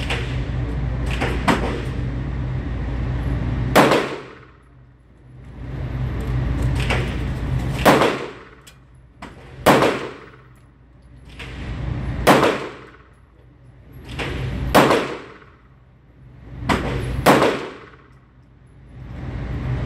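A stainless-steel SAR P8S ported pistol firing at an outdoor range from 7 yards: a steady string of sharp, loud reports roughly every two to three seconds, each with a short ringing decay and no talking between them.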